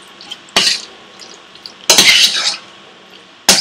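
Raw prawns are mixed with vindaloo paste in a dish, three loud bursts of scraping and clattering utensil stirs separated by quiet gaps.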